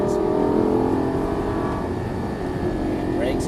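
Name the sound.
Lamborghini Gallardo LP550 accelerating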